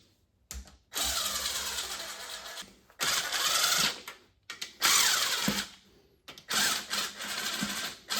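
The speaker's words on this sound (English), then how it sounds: "let's get our bolts in, and we'll just loosely tighten these down for right now" A power tool whirs in several bursts of about a second or two, running down bolts on the oil pan of a 1997 Mustang Cobra 4.6L, close and fairly loud, with short quiet gaps between runs.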